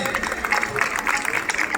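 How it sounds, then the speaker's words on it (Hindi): An auditorium audience at a state-level education event claps in loud, continuous applause, with a voice speaking over it. "जोरदार ताली आप सबकी तरफ से"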